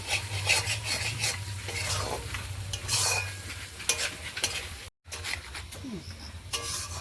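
Spice paste for fish curry fries in a pan and is stirred continuously, a close sizzle under scraping utensil strokes with one brief dropout.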